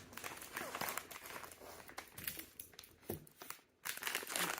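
Crinkly plastic wrapper on a Hello Kitty snack box being pulled open, with repeated close crackles and tearing rustles coming in bursts and a short pause near the end.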